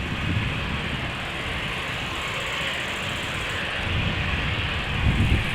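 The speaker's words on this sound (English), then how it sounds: "Embraer 190, KLM flight 935 going to Dublin" A KLM Embraer 190 departs Amsterdam Schiphol, a steady loud broadband engine roar with a low rumble that swells slightly toward the end, heard without talk.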